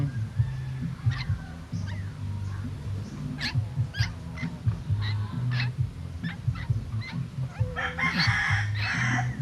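A chicken clucks repeatedly in short bursts close by, with a few higher squawks and some background chatter near the end.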